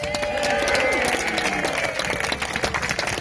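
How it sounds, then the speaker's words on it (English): A festival crowd at the Peterborough Heritage Festival claps and cheers for historical reenactors, dense applause mixed with shouts and whoops, steady and fairly loud across the whole stretch. "Please give them a massive cheer and a huge round of applause."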